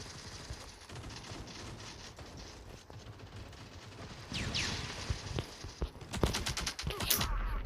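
Gunfire in the mobile shooter Modern Strike Online: bursts of rapid automatic fire and sharper shots that grow louder and denser toward the end, with a faint whistling sweep partway through.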